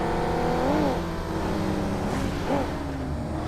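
A car engine hums steadily in the PUBG Mobile game, with brief rising revs as the car reverses, holding a constant drone throughout with no clear speech.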